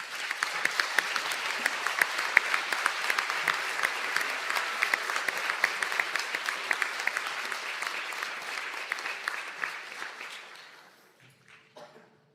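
An audience at a graduation conferring ceremony gives a long burst of hand clapping that fills the hall, steady for about ten seconds before thinning out and dying away to a few last claps.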